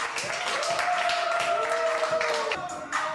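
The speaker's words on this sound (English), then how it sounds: "I want everybody to clap when she finishes" Audience clapping at a live comedy show, a continuous patter of hands under a sustained sung or hummed tone.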